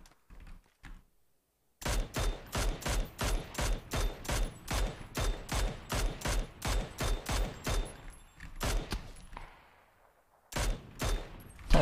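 Gunfire in the battle royale game PUBG: a long run of rapid, evenly spaced sharp shots after two brief early cracks, then a short pause and another burst, fairly loud and with no talk.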